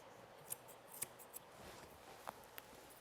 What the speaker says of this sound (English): setting the front of the foot by trimming right up against the front toenails